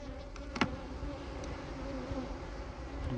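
Honey bees buzzing at an open hive of a large colony during an inspection, a continuous close, even drone of many wings with a couple of brief knocks early on.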